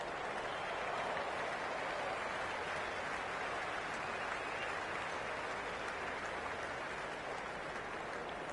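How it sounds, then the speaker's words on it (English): A cricket stadium crowd cheers and applauds at a qualifier match, a dense, steady wash of clapping and roaring that holds at an even level throughout, with no clear voices standing out. "The spectators are absolutely buzzing right now"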